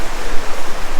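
Creek water rushes steadily around a bend near a concrete weir, giving a loud, close, continuous broadband wash with no voices over it.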